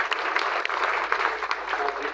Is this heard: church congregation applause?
yes